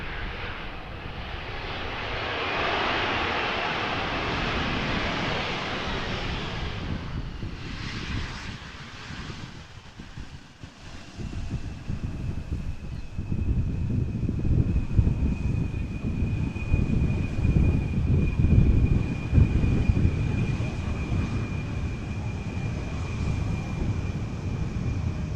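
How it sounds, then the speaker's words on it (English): An Embraer 170 airliner arriving at Amsterdam Schiphol Airport roars past on landing, its engine noise steady and fairly loud. A thin whine holds in the middle of the sound, and a deep rumble swells toward the end. "Embraer 170 arriving from Marseille."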